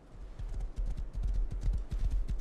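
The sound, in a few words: horse hooves clip-clopping in the video game Rust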